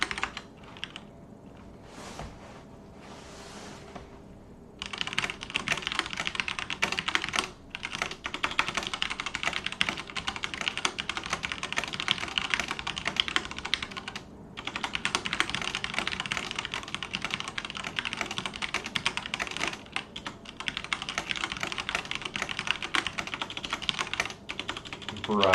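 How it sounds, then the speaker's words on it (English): Fast, continuous typing on a computer keyboard during a typing test fills the whole stretch. The dense key clatter is nearby, with brief pauses near the start and midway. "I'm going to do a typing test really quick."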